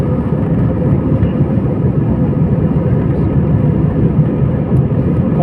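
Heard from the cabin, an airliner climbs after takeoff from a Saudi Arabian airport with a loud, unbroken, low engine roar that holds steady throughout, with no voices over it.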